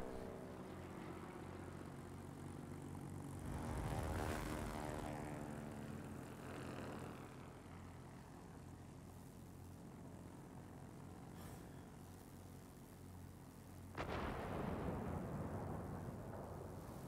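In the World of Warplanes video game, Spitfire propeller engines drone continuously and swell and fade as aircraft pass. A sharp burst of gunfire or an impact breaks in near the end, with no talk.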